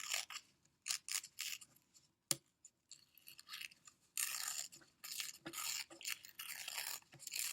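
Paper torn by hand while pressed flat on a white sheet, a series of dry ripping bursts of varying length, close and fairly quiet, with short pauses between tears and a longer, denser rip near the end.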